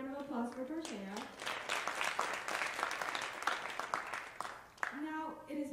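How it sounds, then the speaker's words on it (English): Audience at a Women's History Month event applauds, a full, sustained burst of clapping between stretches of a speaker's voice at the start and end. "A round of applause for Torshea."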